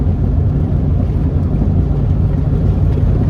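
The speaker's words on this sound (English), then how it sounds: "I'm gonna turn the engine over without the spark plugs in it" An Ariens zero-turn mower engine is turned over with its spark plugs removed, giving a steady, loud, close whirring rumble that runs unbroken throughout with no talk.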